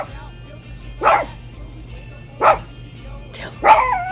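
A dog gives three sharp, separate barks about a second apart, close and clear over a quiet low hum.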